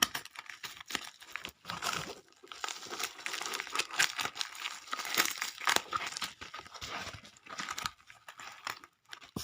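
Hands peel adhesive tape and wrapping off a mailed parcel, making dense, close crinkles and rips that come in uneven bursts, fairly quiet, with no talking.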